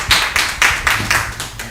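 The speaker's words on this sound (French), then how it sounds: "mais encouragez quand même le doyen, applaudissez pour lui" An audience applauds steadily in rhythmic waves of claps for an elder at a Guinean storytelling gathering, loud and close, with no talking over it.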